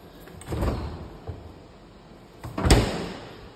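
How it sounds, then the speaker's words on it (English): A huge stainless steel double door refrigerator in an apartment kitchen is opened and shut, giving two soft thuds with a light rattle about two seconds apart in a quiet room. "Huge double door refrigerator."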